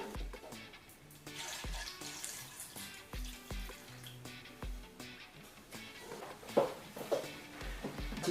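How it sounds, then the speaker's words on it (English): Cold water poured into a fountain pot splashes and gurgles quietly in uneven bursts, with small drips and clinks against the pot. "I'm going to pour some cold water."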